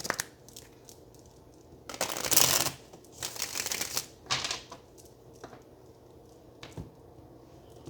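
Tarot cards riffle and shuffle close up in a few bursts, with soft papery flicks and taps in between.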